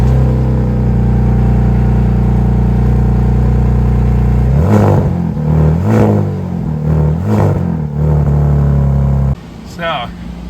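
A Dodge Demon V8 idles with a deep, steady rumble, then barks through several sharp, loud revs that rise and fall before dropping back to a lower idle, heard up close.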